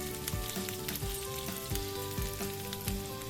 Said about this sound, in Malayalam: എല്ലാം കൂടെ നല്ലവണ്ണം ഇളക്കി വഴറ്റിയെടുക്കുക